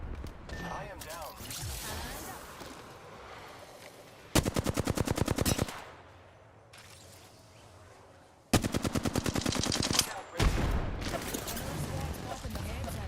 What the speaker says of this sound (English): There's a lot of shooting.